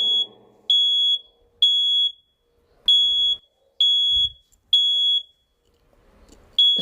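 A smoke alarm sounds during a fire alarm system test, giving loud, piercing electronic beeps in a regular on-off pattern, roughly half a second each, separated by short silent gaps.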